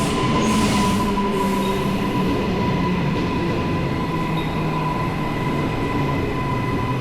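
A Brisbane commuter train on the Cleveland line rumbles steadily and close throughout, with continuous wheel and motor noise and a thin high whine, no voices.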